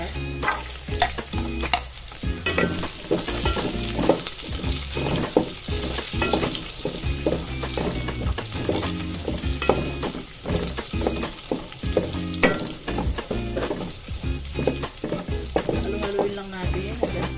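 Onion sautés in a hot pan under constant stirring, with busy sizzling and frequent scraping, clacking strokes of a utensil against the metal throughout and no voices.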